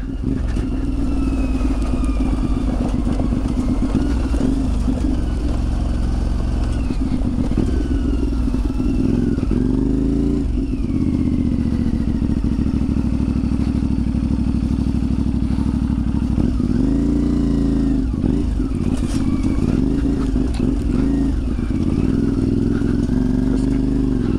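A CFMOTO 450 MT motorcycle ridden off-road, its engine droning loud and close throughout with rising and falling revs, rumbling wind and occasional clattering bumps from the rough terrain.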